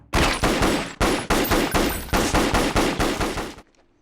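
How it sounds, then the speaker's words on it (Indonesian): Gunfire in a gangster action film scene: about a dozen loud, closely spaced shots ring out in a rapid uneven volley, each with a short decaying tail, then stop abruptly into near silence. "Lalu saat dia hendak menolong Case, si Jamet tiba-tiba menembak Lena"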